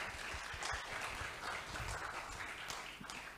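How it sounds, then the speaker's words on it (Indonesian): Audience applause at an Indonesian political talk show on inclusive local elections and disability, faint and steady clapping from a room of people, heard at a distance and with no talk over it. "Kita berikan dulu tepuk tangan untuk Pak Lutfi."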